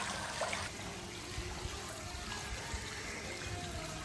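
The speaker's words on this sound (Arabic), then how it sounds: "أخليكم تسمعوا صوت المي، رائع حقيقة." Water trickles steadily at an old house in Jabal Amman, Jordan, a soft, continuous splashing hiss with no talking.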